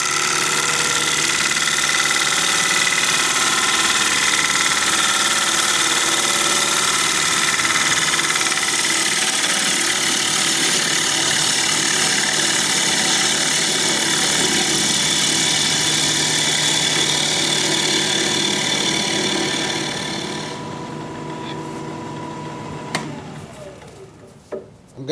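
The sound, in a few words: gouge cutting alder bowl on wood lathe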